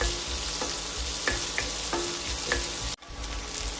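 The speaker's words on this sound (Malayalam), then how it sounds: "4 ചെറിയ അല്ലി വെളുത്തുള്ളി, ഒരു പച്ചമുളക്. ഇതെല്ലാം കൂടി ഒന്ന് ഒത്തിരി അങ്ങ് വഴന്ന് പോകണ്ട" Garlic cloves and a green chili sauté in hot oil with a steady, dense sizzle, a few soft stirring knocks, and a brief drop near the end before the sizzle resumes.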